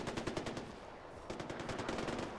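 Automatic gunfire in Far Cry 4 comes as two rapid, clattering bursts separated by a brief pause, loud and close with no talking.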